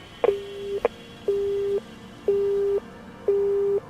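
Busy tone at the end of a phone call: a handset click, then repeated steady beeps of about half a second each, evenly spaced and fairly loud, alone with no voices.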